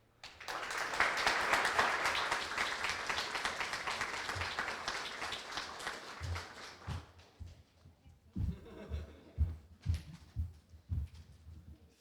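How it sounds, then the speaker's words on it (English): Audience applause at a university research presentation final, a dense burst of clapping for the first several seconds that thins out and fades, followed by scattered low thumps. "I think a second round of applause is needed for that hop."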